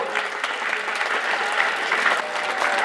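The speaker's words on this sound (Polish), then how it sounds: "Arkadiusz Kowalczyk, wielkie brawa!" Steady applause from a crowd at a GKS Katowice football team presentation, dense continuous clapping sustained throughout at a fairly loud, even level with no clear speech over it.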